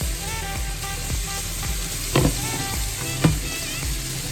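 Butter sizzles in a hot frying pan, a loud continuous crackling hiss close up, with a couple of brief louder bursts of spatter midway.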